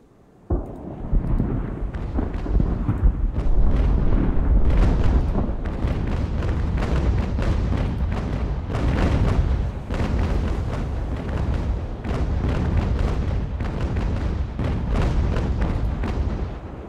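Naval cannon fire in the Ultimate Admiral warship game, a long dense barrage of booming shots and crackling bursts that stays loud and continuous for about sixteen seconds.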